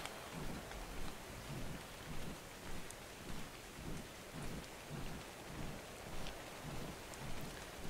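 Steady heavy rain with rolling low rumbles of thunder pulsing throughout a stormy scene in the video game ARK Survival Evolved, no voices.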